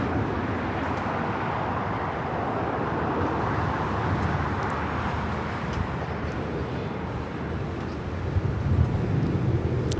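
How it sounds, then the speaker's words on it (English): An Air China Boeing 777-300ER taking off from LAX produces a broad, continuous jet roar heard from a distance, steady and rumbling across ten seconds with wind-like noise mixed in. "Air China Flight 988 taking off to Beijing on the 777-300ER."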